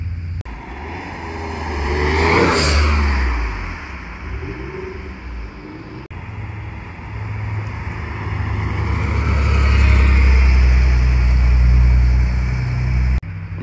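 Vintage legend cars, including old racing and classic models, drive past one after another at a classic car rally, their engines swelling loud and close and then fading, with a steady roar building again as another wave arrives.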